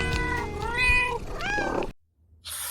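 A cat meowing in a few drawn-out, rising and falling cries one after another, close and clear, followed by a brief pause and a soft noisy rustle.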